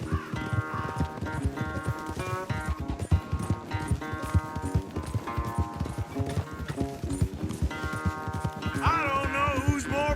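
A horse gallops in Red Dead Redemption 2, hooves clopping in a fast, steady rhythm throughout, loud and close, over a busy background of music or game sound.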